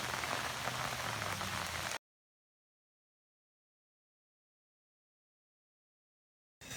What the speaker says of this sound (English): It's quite a rainy day today in South Carolina.